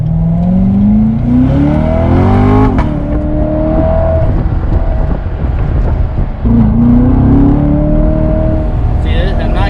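2017 Chevrolet C7 Corvette Grand Sport accelerating from inside the cabin, loud engine rising in pitch through the gears with a clear shift drop partway through, then climbing again; voices talk over the engine.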